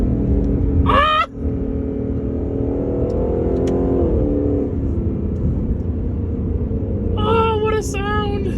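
A Lexus LC500 engine revs and accelerates in a loud, sustained roar that rises in pitch mid-clip, with a brief dip near the start; a person exclaims over it at the beginning and again near the end.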